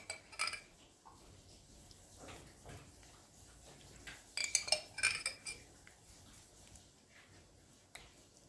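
A utensil spreading and stirring tomato sauce into tortellini, with soft scraping and light clinks against the dish, quiet and irregular, louder clattering near the middle.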